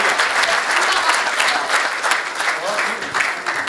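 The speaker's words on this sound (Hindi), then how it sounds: "एक बार जोरदार तालियां" A large audience at a Hindi poetry gathering breaks into loud, sustained applause for the poet, a dense continuous wash of clapping with crowd noise, no clear talk over it.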